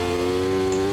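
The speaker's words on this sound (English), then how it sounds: "The engine sounds a little bit different though to the Benetton" A McLaren race car engine in Automobilista 2 holds a steady, loud, buzzing high-revving note for a moment, with no talking.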